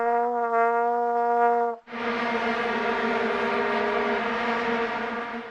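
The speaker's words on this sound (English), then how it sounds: "Here is the sound of a vuvuzela." A vuvuzela horn like those at the 2010 World Cup gives a steady, loud, buzzing monotone blast, breaks off briefly, then comes back as a rougher, noisier continuous drone, with no talking over it.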